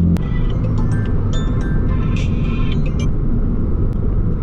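A sports car with a top speed of 290 km/h drives at about 180, giving a loud, steady low rumble of engine and road noise with some high whine from inside the car; no talking.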